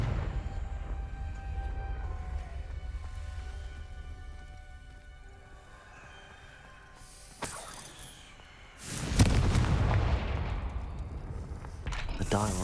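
A Confringo blasting spell goes off in Hogwarts Legacy, a sudden loud burst with a crackling, rumbling tail after quieter background music and ambience, followed by a second sharp impact.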